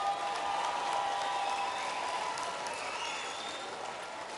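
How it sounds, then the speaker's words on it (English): Audience applause for the people of Gorey at a sheep-shearing championship, a steady, dense clapping from a large crowd held at an even level throughout, with no talk over it. "Can we have a round of applause for the people of Gorey?"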